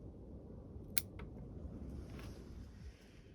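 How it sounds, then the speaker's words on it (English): A single crisp snip of pruning shears cuts a branch on a variegated Portulacaria afra, quiet and close, followed by a faint second click and light rustling. "I'm going to snip this here."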